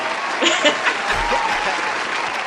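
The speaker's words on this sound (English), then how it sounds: "Let me give you another round of applause for" An audience at a talk-show-style event gives a short round of applause, a quick burst of clapping that blends with a speaker's voice over it.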